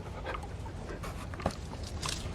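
A farm dog pants in quick, rhythmic breaths close by, short huffs repeating over a couple of seconds with a faint whimper.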